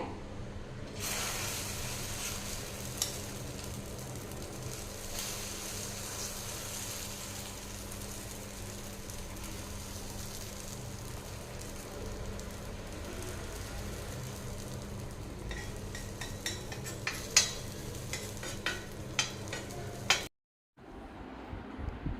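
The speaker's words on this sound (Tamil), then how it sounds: "தவா வச்சிட்டோங்க நல்லா சூடாயிட்டுருக்கு" Egg masala omelette batter sizzles in oil on a hot tawa with a steady, soft frying hiss that continues for a long stretch, ending with a few light crackles and a brief gap.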